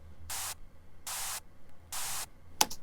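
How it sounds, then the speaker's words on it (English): A synth pushed through heavy, full distortion in a music mix plays three harsh, noisy bursts of similar length in an even rhythm, followed by a short crackling click. "that's a ton of distortion I'm adding right there"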